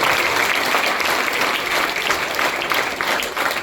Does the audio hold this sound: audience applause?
yes